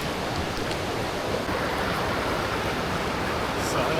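Steady broadband rush of a flowing river near waterfalls with crystal-clear water, continuous and fairly loud, an unbroken wash of water noise with no voices.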